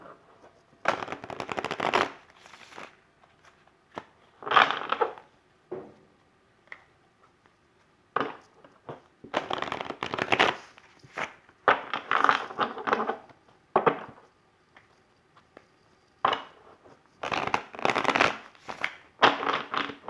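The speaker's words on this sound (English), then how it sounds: "Let's go ahead and shuffle your cards a little bit here." Tarot cards are shuffled in repeated bursts, brisk riffling and sliding that stops and starts across the stretch, close and fairly quiet, with no talking.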